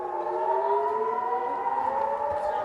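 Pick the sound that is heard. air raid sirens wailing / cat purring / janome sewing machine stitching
air raid sirens wailing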